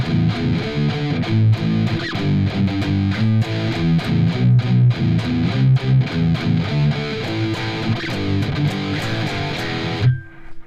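Electric guitar through a distortion pedal chugging a heavy palm-muted pre-chorus riff in a metal style, loud and driving with tight rhythmic downstrokes, ending on a ringing chord that quickly cuts off.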